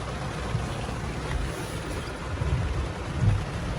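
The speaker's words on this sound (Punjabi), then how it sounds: "ਮੀਂਹ ਬਹੁਤ ਤੇਜ਼ ਚੱਲਿਆ ਬਈ" Heavy rain pours in a dense, continuous roar, with occasional low rumbling swells.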